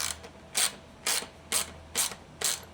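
A ratchet wrench snugs a bolt on a Surron Light Bee X electric dirt bike at the fender spacer, making five or six short, close clicking bursts in an even back-and-forth rhythm with nobody talking.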